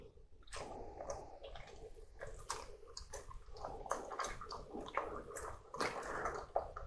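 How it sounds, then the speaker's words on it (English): A whisk beats white wine vinegar into a bowl of homemade mayonnaise, giving a steady run of wet, squishy clicking strokes close up, with no talking. "And then we're just going to whisk that in."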